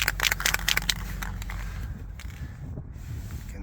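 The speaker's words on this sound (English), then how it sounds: "Make sure you can hear that little ball inside rolling." A spray paint can shaken by hand before coating a 2014 Ford F150 rocker panel, its mixing ball rattling in quick close clatters that fade after a couple of seconds.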